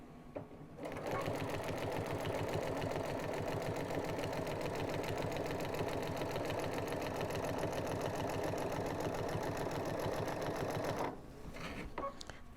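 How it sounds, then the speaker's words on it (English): A sewing machine stitches binding onto the edge of a 60 by 84 inch quilt, running fast and evenly for about ten seconds before stopping abruptly. "line up the binding with the edge of the quilt and just stitch"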